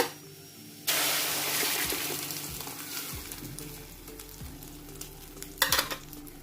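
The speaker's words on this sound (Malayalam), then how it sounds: "അത് ബാറ്റർ ഒഴിച്ചിട്ട് എല്ലാം കൂടി ഒന്ന് മിക്സ് ചെയ്ത് കൊടുക്കുന്നുണ്ട്" Egg batter stirred in a hot frying pan for a Malabar mutta marichath, a loud steady sizzle starting after a quiet moment, with soft scraping strokes and a brief louder clatter near the end.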